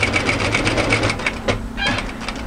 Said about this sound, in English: I'm going to stitch directly through to another 1/4 inch on the other side, turn and pivot,